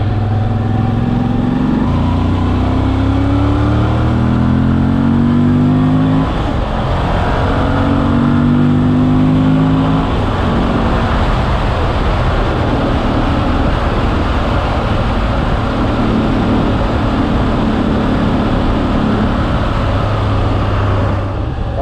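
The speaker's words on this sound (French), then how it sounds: "Là j'ai fait exprès de taper un peu dans le moteur" A BMW V85TT motorcycle engine idles and revs, its pitch climbing and falling in repeated surges, loud and close, with no talking.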